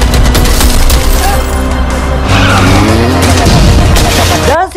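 Loud bursts of automatic gunfire and booms crash through a zombie chase scene from a Resident Evil film, layered with skidding, engine rumble and chaotic effects, ending abruptly.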